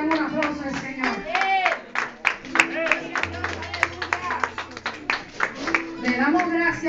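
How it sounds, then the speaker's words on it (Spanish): A church congregation claps in praise of the Lord, with scattered, uneven hand claps heard close and partly under loud voices calling out and talking over them. "le damos un aplauso al Señor"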